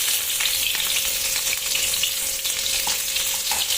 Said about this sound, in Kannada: ನಂತರ ಈರುಳ್ಳಿ ಸ್ವಲ್ಪ ಫ್ರೈ ಆಗಿ